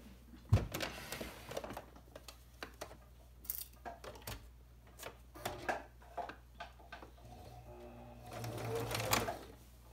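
A sewing machine stitches elastic onto a fabric scrub cap in short, quiet runs of rapid needle clatter, broken by brief pauses and soft handling noises, ending in a longer, louder burst of stitching.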